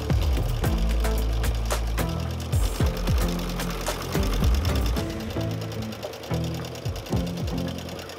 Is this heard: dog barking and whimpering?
no